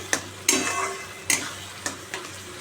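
A bhorta mixture with garlic frying quietly in a pan, with a few sharp scrapes and knocks of a spoon against the pan at uneven intervals over a faint sizzle.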